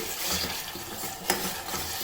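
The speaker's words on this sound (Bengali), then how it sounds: "দিয়ে একটু মানে নাড়বো যেন পুড়ে না যায়" Caramelised sugar with date palm jaggery being stirred in a pan for a Christmas plum cake, giving a steady soft sizzle with scraping strokes and one brief sharp knock midway, close and alone.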